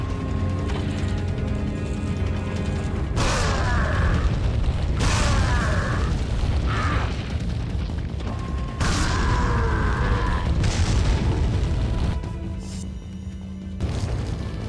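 Grenade blasts in Resident Evil 4, a series of loud booming bursts arriving at intervals over a dense backdrop of game noise and music.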